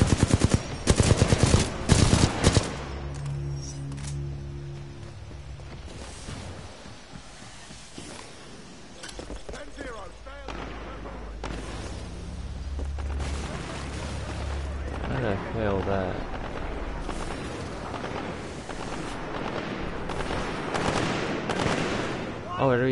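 Rapid machine-gun bursts and heavier shots from Titanfall 2 crackle loudly, a dense volley at the start, then intermittent firing continuing as players talk over the fight.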